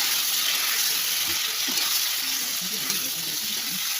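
Potatoes fry with turmeric in a pan over a raised gas flame, giving a steady, loud sizzle and hiss with occasional stirring scrapes and no voices.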